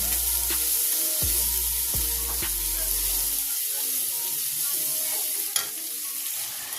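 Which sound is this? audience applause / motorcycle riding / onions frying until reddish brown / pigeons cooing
onions frying until reddish brown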